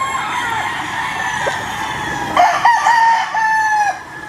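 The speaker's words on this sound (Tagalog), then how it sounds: "Stag naman to, mga stag yung pinapakita namin sa inyo." A 10-month-old stag, a young gamecock of McLean Hatch crossed with Nelson Black on a game farm, crows in a strained, wavering call with a few clucks, fairly close and loud, over a steady background of other birds.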